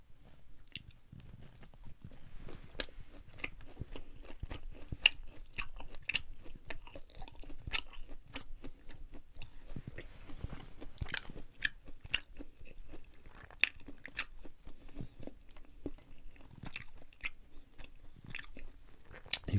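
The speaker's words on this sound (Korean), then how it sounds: "한우적입니다. 와사비 찍어서 먹어볼게요." Close-up chewing of a Korean hanwoo beef skewer dipped in wasabi, with steady soft bites, squishes and small crunches repeating throughout, quiet and intimate with no talking.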